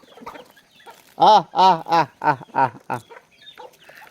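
Chickens cluck close by at feeding time in a rural yard: a run of about seven loud, evenly spaced clucks, with quieter murmuring before and after.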